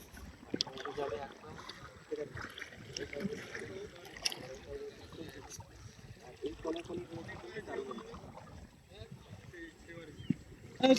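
A small passenger boat full of riders moving across water in the Sundarbans, with soft splashes and lapping beneath frequent nearby talking and scattered background noises.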